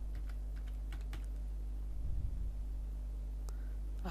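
Keys clatter on a computer keyboard in short, light bursts while a web form is being set up, sparse clicks over a low steady hum, fairly quiet and close.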